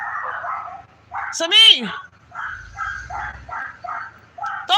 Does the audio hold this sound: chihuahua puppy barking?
yes